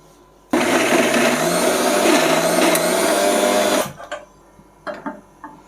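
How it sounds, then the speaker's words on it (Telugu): Kitchen mixer grinder blends boiled green gram with cashews into a paste, a loud steady electric whir running for about three seconds before cutting off abruptly, followed by faint clinks. "కొంచెం జీడిపప్పు దీంట్లో వేసుకొని మిక్సీలో వేసేయాలి."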